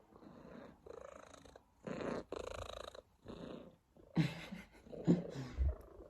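A house cat purrs close by, a soft, continuous rumble with brief pauses, alongside a few short, louder cat sounds near the end.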